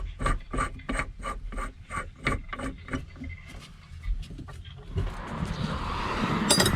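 A puller screwed onto the starter bendix of a 2000 Kawasaki STX 900 gives a quick run of sharp, evenly spaced ratcheting rasps for about three seconds, then looser scraping and a rising hiss of handling noise.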